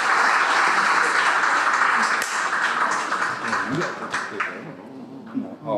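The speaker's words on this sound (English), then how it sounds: "And a big round of applause for our panelists once again." Round of applause for the panelists at a water safety event, dense crowd clapping that slowly tapers off, with some chatter and voices mingling in.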